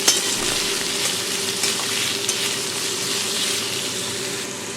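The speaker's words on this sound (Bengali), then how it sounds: "এবারে সমস্ত কিছু উপকরণ ভালো করে নাড়াচাড়া করে দেবো।" Garlic, green chili and a large onion sizzle steadily in oil in a pan for a Bengali peanut bharta, a continuous close frying hiss with faint scraping as the ingredients are stirred, no voices.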